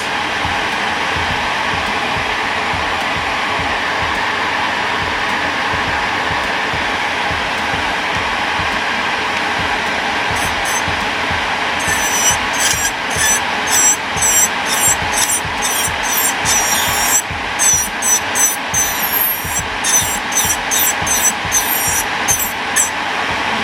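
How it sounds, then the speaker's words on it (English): A MelodySusie SM320G nail drill shaving off nail polish, a steady whirring motor drone with rapid rhythmic grinding pulses as the bit contacts the nail, growing busier partway through, no talk. "So I put it to 15, and I'm just going to shave off this nail polish here."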